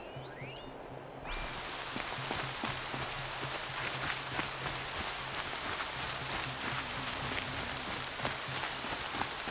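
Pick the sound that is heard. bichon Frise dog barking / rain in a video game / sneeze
rain in a video game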